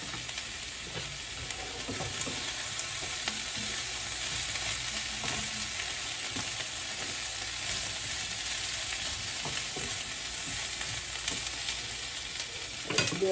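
Chicken fries on a stove with soy sauce and cornstarch, giving off a steady, dense sizzle that lasts the whole time without any talking.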